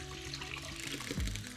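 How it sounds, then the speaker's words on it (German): Broth poured into a pan of green asparagus risotto, a short liquid splash and trickle rising near the end over a low background hum. "Nun gebe ich dann die Brühe rein."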